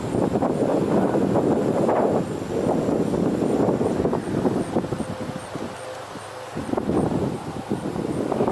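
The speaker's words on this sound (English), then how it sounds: "It's breezy. It actually feels nice with that breeze." A breeze blows outdoors, a rumbling, gusty wash of wind noise buffeting the microphone, loud and continuous with a brief dip near the middle.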